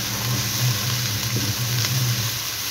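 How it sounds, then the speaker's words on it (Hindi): Ginger-garlic paste, a tomato and four slit green chillies fry in a pan for a sponge gourd curry, giving a close, steady sizzle with small bursts and no voices. "फ्राई करेंगे थोड़ी देर से।"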